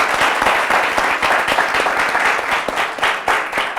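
An audience at an embassy-hosted talk show applauds loudly and continuously, dense overlapping clapping filling the whole stretch with a faint crowd murmur underneath.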